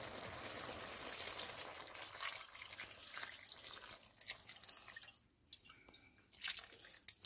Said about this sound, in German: Jetzt geben wir unseren Geflügelfond mit rein.